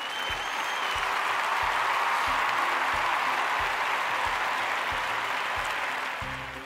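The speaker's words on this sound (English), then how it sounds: "Why don't we give them a big old round of applause for their efforts?" A round of applause for kids camp participants, steady continuous clapping from a group held evenly throughout, moderately loud and fading a little at the close.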